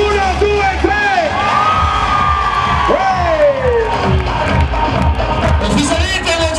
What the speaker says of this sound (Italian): Fatevi sentire un bel urlo al 3!